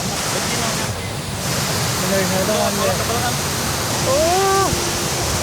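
Cibeureum waterfall on Mount Gede, reached by a hike via Cibodas, roars as a steady broadband rush of falling water close by, with a person talking over it and a voice exclaiming near the end.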